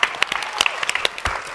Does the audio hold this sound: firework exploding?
no